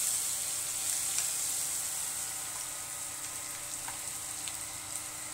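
Green chillies sizzling in a ladleful of oil on an iron tawa, a faint, even crackling hiss held throughout with a few light pops, no talking.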